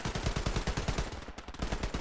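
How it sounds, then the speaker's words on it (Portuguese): Dense, rapid gunfire rattles without pause, bursts overlapping into a continuous loud barrage with a brief dip near the end, like a busy shootout in a Kar-98 video game match. "É muito tiro"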